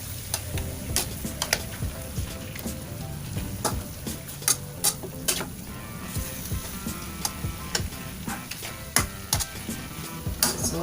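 Pieces of chicken adobo sizzle and fry in a pan until golden brown, a steady crackling hiss punctuated by frequent sharp pops and spatters that ring out near and clear, with no one talking.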